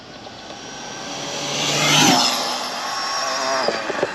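An Arrma Limitless 120 RC car running on 8S power screams past at speed, its high electric whine swelling to a peak as it nears and then fading as it pulls away.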